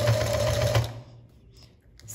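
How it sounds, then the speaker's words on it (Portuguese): A sewing machine stitches the hem of a dish towel in a fast steady whir for under a second, then stops, leaving quiet handling noises. "Com a agulha dentro do meu tecido, levanto o meu pé de máquina, posiciono a etiqueta aqui para ela ficar bem retinha e continuo a costura."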